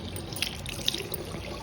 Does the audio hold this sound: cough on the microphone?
no